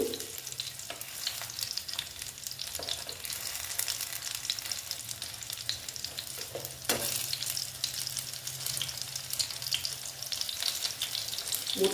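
Steady oily sizzling of banana flower fritters frying in a pan, continuous throughout with occasional scraping and clinks of a utensil.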